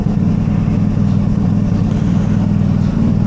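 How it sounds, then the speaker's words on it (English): A car engine idles steadily while warming up, a loud, close, continuous low rumble with no change in pitch and no talking. "we'll let this run for a couple minutes, get everything heated up"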